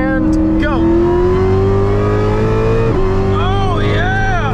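A car launched hard in third gear with traction control off: a loud, close engine rises steadily in pitch, briefly dips at a shift, then climbs again, with voices talking over it.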